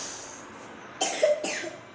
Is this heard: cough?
yes